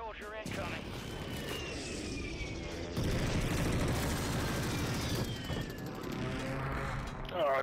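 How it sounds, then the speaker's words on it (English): Precision airstrike explosions in the Call of Duty Warzone video game on Rebirth Island, a dense rumbling barrage of blasts and rapid gunfire-like cracks that grows heavier midway, with voices talking over it. "Friendly precision airstrike inbound."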